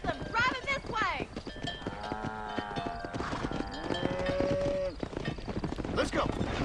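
Cattle moo loudly and repeatedly in long drawn calls while being herded in Red Dead Redemption, hooves clopping underneath and someone talking between the calls.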